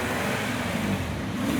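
An off-road vehicle engine revs at full throttle, a close, steady, strained roar with no talking over it.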